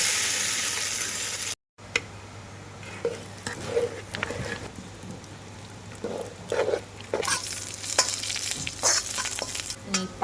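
Cassava sizzles as it fries in melted butter in a pan, with repeated scraping stirs over a steady crackle and a brief silent break near the start; the sound is close and moderately quiet.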